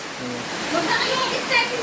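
Floodwater rushing into a home in Pilasara, a steady, loud broadband rush of water that continues without a break, with a faint voice underneath.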